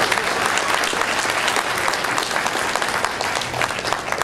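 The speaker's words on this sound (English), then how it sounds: "give them a round of applause" Wedding reception guests applaud the staff, a loud, dense burst of many hands clapping continuously throughout, close and full, with only faint crowd murmur beneath.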